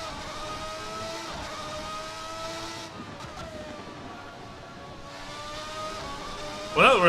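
V12 race car in the Assetto Corsa racing game, a high, screaming engine note that holds steady, dips as revs fall, then climbs again, with a brief sharp noise at the end.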